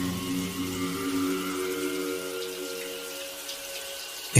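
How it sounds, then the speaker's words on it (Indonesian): Water from a bathroom shower faucet runs steadily in a soft, even hiss with a faint hum beneath, heard from a short distance away. "keran shower airnya menyala sendiri"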